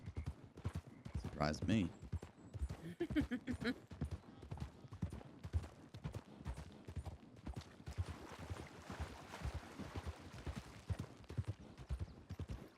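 Wild horses galloping in a ranch roleplay game, a dense run of hoofbeat clip-clops close by with an occasional whinny, heard under frequent talking.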